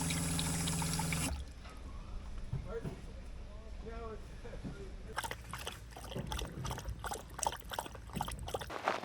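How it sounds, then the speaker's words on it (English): Water gushes from a 15-gallon camping water tank at a forest campsite, a loud steady pour for about a second before it stops, followed by people talking over faint clatter. "We'll get Shasta her water here. And look at that"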